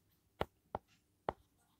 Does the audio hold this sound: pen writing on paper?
yes